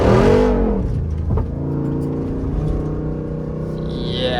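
Jeep Rubicon 392 in 2-wheel drive accelerating hard nearby, a loud engine roar that surges at the start and then holds a steady, strong drone.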